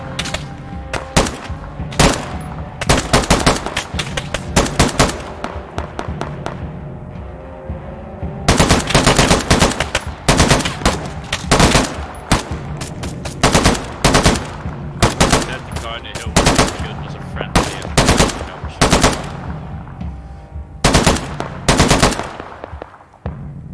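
Gunfire in the video game Afghanistan, 1980, with loud, close bursts of automatic shots in repeated strings, separated by brief pauses and a short lull early on.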